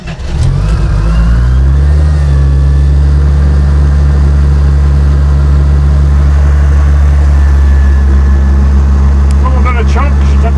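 A payloader's engine holds a loud, steady high idle just after a cold start in snowy northern Wisconsin winter, its deep drone continuous and close throughout.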